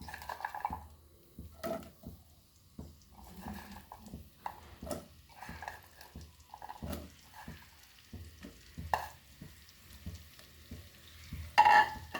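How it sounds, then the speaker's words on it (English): Prawns frying in oil in a pan, a quiet sizzle under repeated scraping and stirring knocks from a utensil, close and uneven in rhythm. "Then we'll fry our prawns."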